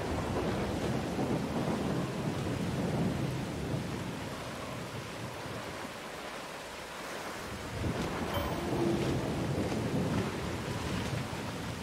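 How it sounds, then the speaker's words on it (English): Thunderstorm at sea in the video game Skull and Bones, with a continuous roar of wind, rain and crashing waves around a dhow sailing ship, rumbling low thunder swelling and easing throughout, no voices. "Oh, there's the storm brewing."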